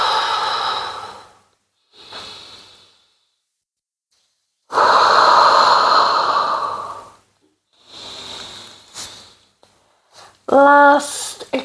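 Several close, audible breaths in and out during a mat Pilates exercise, coming as separate airy bursts with pauses between them and ending in a short, sharp exhale.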